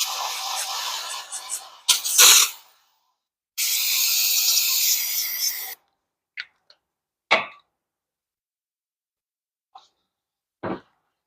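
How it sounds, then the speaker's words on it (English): Brake cleaner is sprayed onto parts of a 54-inch Cub Cadet 24 HP riding mower in several hissing aerosol bursts, two longer and a few short, separated by stretches of silence. "And I do not go crazy with my brake cleaner."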